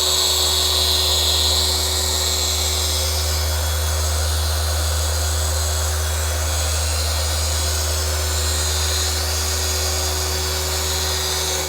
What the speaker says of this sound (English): We're just finishing up compounding and about to head into polishing, our in between polishing steps.